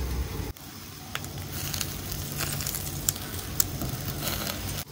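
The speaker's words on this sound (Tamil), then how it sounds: "நீங்கள் இந்த பட்டர் ஆயில் ஸ்ப்ரிங்கிள் பண்ணோன்னே இந்த மாதிரி ஃபயர் வரும்" Grilled chicken over an open fire flaring up after butter oil is sprinkled on, a steady close crackling roar with a few sharp pops and sizzles.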